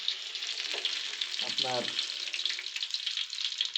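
Spice-coated giant river prawns fry in hot mustard oil with a steady, bright sizzle throughout, and a voice briefly speaks partway through.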